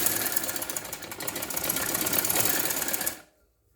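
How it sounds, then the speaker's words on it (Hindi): A sewing machine runs steadily for about three seconds, stitching a double line along a trouser seam, its rapid needle clatter loud and close, then stops abruptly into near silence. "ये देखिए, डबल थोड़ी सी सिलाई कर दें"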